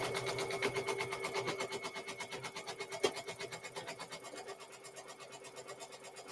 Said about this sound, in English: And it is going to stitch out the area in which we're going to put the mosaic.